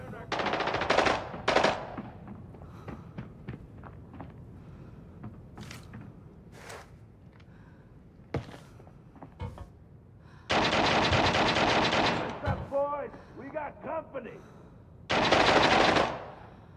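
An RPK machine gun fires in Arena Breakout, with loud sustained bursts of rapid shots separated by quieter stretches of scattered impacts and movement, including a long burst mid-clip and another near the end.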